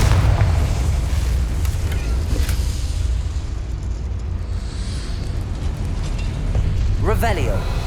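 A booming Confringo explosion spell goes off in Hogwarts Legacy, a loud rumbling blast that fills the whole stretch with a sustained roar, while a voice speaks over it.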